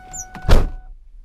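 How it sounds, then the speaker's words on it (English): A Ford Mustang GT door being pulled shut, a single close, solid thunk with a brief low rumble that quickly fades to quiet. "Shut the door here."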